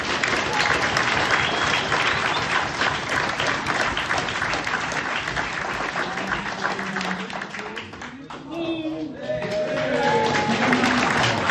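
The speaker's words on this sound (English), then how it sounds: "A big applause for all the performers and for yourself." Dense, continuous applause from a village hall audience for the performers at a music gathering, steady and loud throughout, with a brief voice near the end.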